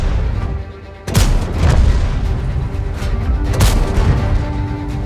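Tank cannon shots from a video game strike enemy positions, two loud booming blasts spaced a few seconds apart over a steady rumbling battlefield background.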